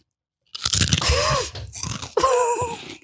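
Three crunchy bites into a chip, each a close, loud crackling crunch with chewing, separated by brief pauses, with a vocal groan mixed in.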